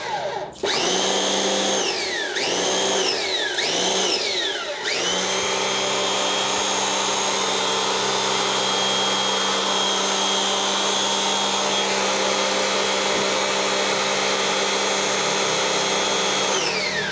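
A Xenon HPW 400 high-pressure washer runs loud and steady, with a few rising and falling pitch surges at startup, then a constant whining motor drone with no voices.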